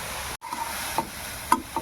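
Vegetables with salt and turmeric being stirred in a pan, heard as a few short scraping stirs over a faint sizzle, with a brief silent gap near the start.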